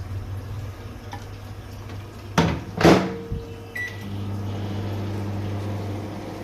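Microwave oven heating coffee: a door clunk and button beeps, then a steady low electrical hum starts and continues alone to the end.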